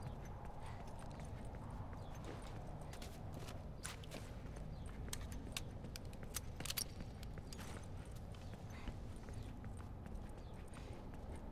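Faint, distant horse hooves clopping steadily in the video game The Last of Us: Left Behind, over a low rumbling background, with scattered sharp clicks and no voices.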